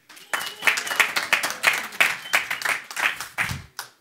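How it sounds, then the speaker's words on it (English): A congregation at a sermon cheers and claps in loud, uneven bursts, with shouted voices rising and falling over the clapping. "Everyone cheer for Zuli."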